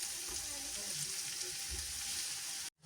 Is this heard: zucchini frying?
yes